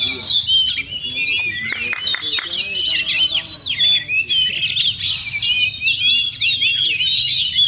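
A kacer (Oriental magpie-robin) sings a rich, varied stream of whistles and chirps, loud and close, continuing without pause, with faint low background noise.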